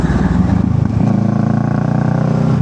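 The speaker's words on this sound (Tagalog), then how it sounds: "Grabe ang tambutso natin. Para yung pamamaril dun sa likod." Motorcycle engine running on a solo ride, a loud close exhaust with rapid rhythmic pulsing and clattering throb; distinct gunshot-like pops are not clearly separated.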